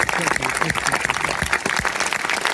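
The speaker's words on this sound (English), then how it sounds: "One more time, round of applause." Audience at a Q&A event breaks into a dense, loud round of applause for the entire moment, individual claps crisp and close, with a voice briefly audible through it.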